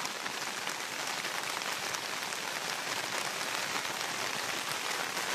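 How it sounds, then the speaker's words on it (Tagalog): Steady rain pours down somewhere in Butuan, a dense, even hiss of drops drumming on surfaces that holds at the same loudness throughout with no voices. "Nag-ulan man siya."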